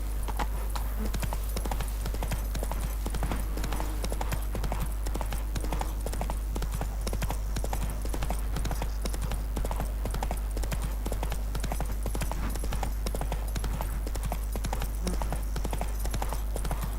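Roach, the horse in the video game The Witcher 3, gallops in a fast, steady clip-clop rhythm of hoofbeats over a constant low rumble, with no pauses throughout.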